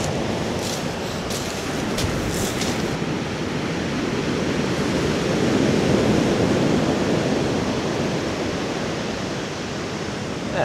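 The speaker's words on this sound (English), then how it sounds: "some mighty big waves" Big storm waves breaking and surging on the shore at Eype, Dorset, a continuous loud roar of surf that swells and eases over about ten seconds, with wind buffeting the microphone and no talking.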